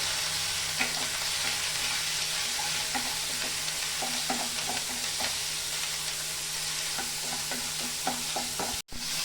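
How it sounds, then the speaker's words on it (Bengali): Steady sizzle of ground spices frying in a pan, with soft scraping stir strokes throughout and a brief cutoff near the end. "এখন আমি মশলাটা আমি খুব ভালো করে একটু ভেজে নেব।"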